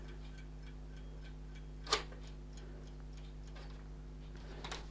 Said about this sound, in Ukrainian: Тобто ось такий годинник янтар.